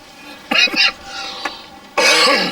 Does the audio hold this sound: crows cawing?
no